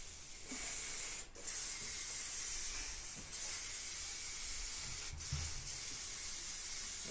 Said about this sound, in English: final bit of layering spray, just to seal it down a little bit.